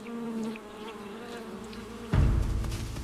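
Steady insect buzzing around a wild beehive hanging from an old tree branch in dry savanna, close and continuous, with a louder rumbling burst near the end.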